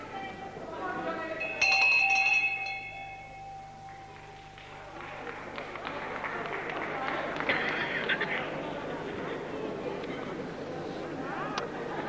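A ringing bell marks the round at a televised 1974 professional wrestling bout, a bright sustained clang near two seconds, heard over crowd noise and a commentator's continuous talk.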